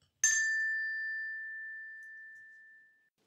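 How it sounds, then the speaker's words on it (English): A single bright bell chime rings once, clear and close, its pure tone sustaining and slowly fading over about three seconds. "Turn the page when you hear the bell."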